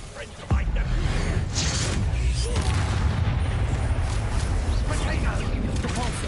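Spell blasts in Hogwarts Legacy: a sharp impact hits early, followed by a steady, dense rumble of booming, crackling magic bursts. Voices are heard over the combat.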